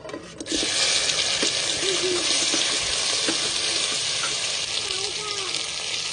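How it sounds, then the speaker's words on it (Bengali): Taro (kochur mukhi) and potato pieces fry in an oily pan with a constant near sizzle. The hiss jumps up just after the start and holds, while faint clatter of stirring comes through. "বেশ ভালো করে কচুরমুখী আর আলুটা ভেজে নেব।"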